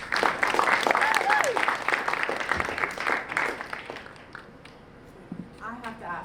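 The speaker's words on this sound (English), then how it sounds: "Give a round of applause to Caleb." An audience at a live talk applauds with brisk, moderately loud clapping for about four seconds before it tapers off and a voice begins speaking.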